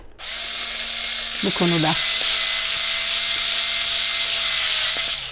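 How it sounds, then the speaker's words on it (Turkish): Handheld power drill running while fitting a handle to a bag, a steady high whine throughout, with a short burst of speech near the start. "mecburen bu matkapla çalışmak çok kolay oldu"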